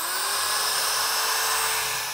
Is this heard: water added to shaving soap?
no